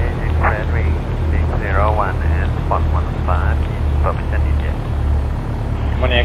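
A Cessna 172S piston engine idles at 1000 RPM in the X-Plane simulator, a steady low drone holding constant throughout, mostly beneath someone talking.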